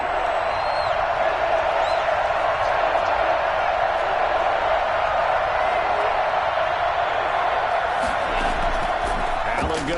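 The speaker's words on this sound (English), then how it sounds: "the crowd getting into it as we come up on a big third down" Stadium crowd at a Bills vs Bucs football game roaring steadily throughout, a dense, continuous wash of cheering and noise that holds at a constant level with a slight swell near the end.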